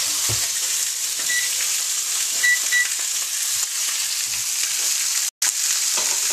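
Pork shoulder blade steak fries in a pan with a steady, loud sizzle that runs unbroken throughout, with faint occasional pops and a brief clatter near the end.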